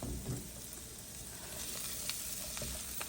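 Steady sizzling of spinach and paneer being sauteed in a pan over a gas stove, a continuous crackling fry with occasional sharp pops and faint stirring scrapes, close and moderately quiet, with no talking.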